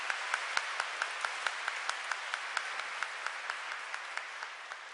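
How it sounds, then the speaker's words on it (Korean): Audience applause fills a church hall during a Seoul archdiocese youth Mass, a dense steady wash of many hands with a few sharper claps standing out at a regular pace, sustained throughout without any talk. "그분들 위해서도 박수 보내주셨으면 좋겠습니다"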